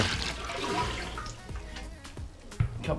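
Sanitizing liquid poured into a Cornelius beer keg, a continuous splashing, gurgling pour into the metal vessel with a few clunks near the end, moderately close.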